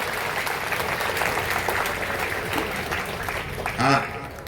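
An audience at a Sardar Vallabhbhai Patel Jayanti gathering in Etawah claps steadily, a dense, even wash of applause that swells briefly near the end, with a voice faintly under it.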